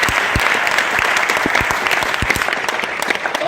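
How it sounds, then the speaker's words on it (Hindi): An audience at a gathering claps loudly and continuously, dense applause with sharp individual claps standing out, close and sustained with no speech. "इनके लिए एक बार जोरदार ताली हो जाएगा"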